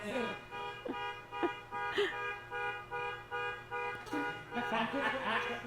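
A buzzing alarm keeps sounding at a steady pulse under a speaker's voice during a seminar talk on competition nutrition, moderately loud and continuing through the whole stretch.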